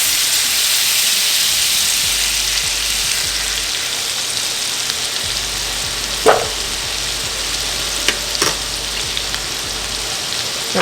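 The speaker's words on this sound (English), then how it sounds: "I'm just gonna go ahead and add in the butter and the garlic. And give that a quick mix around." Butter and garlic sizzle in a hot pan for meatballs oreganata, a steady broad hiss that holds evenly throughout, with a few sharp utensil clicks and scrapes as the mix is stirred.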